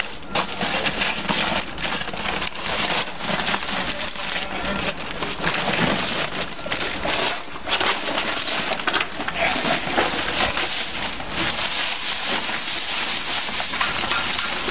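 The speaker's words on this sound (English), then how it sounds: "To mix your mortar, you put the sand in first." Sandblast sand made of crushed quartz pours and scrapes into a mixer while stucco mortar is prepared, a dense continuous gritty rush with rattling grains throughout.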